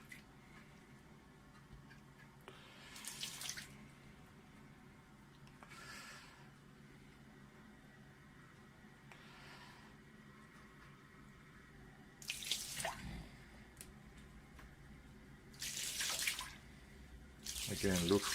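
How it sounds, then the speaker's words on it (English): Lukewarm water trickles and splashes over the mirror of a SkyWatcher 300P 12-inch Flextube Dobsonian telescope, in a few soft bursts with quiet stretches between them, a little louder toward the end. "Let me just apply a little more water."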